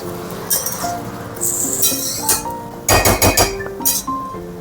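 A spoon stirs papaya curry with a little water in a metal pot, giving sharp clinks and scraping knocks in irregular bursts, close and fairly loud, with a cluster of quick taps near the end.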